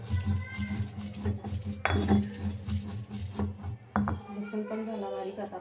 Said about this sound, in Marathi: लसूण पण ठेचून घेते